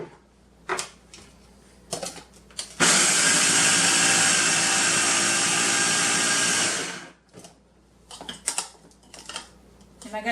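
A small food processor blends an avocado and banana spread with sea moss, running in one loud continuous whir for about four seconds, with short clatters and handling noises before and after.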